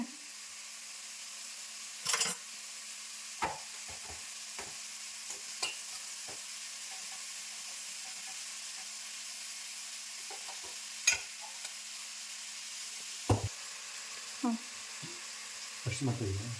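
Vegetables frying in a pan with cold water being added, giving a quiet low sizzle broken by scattered stirring clinks and scrapes over about sixteen seconds.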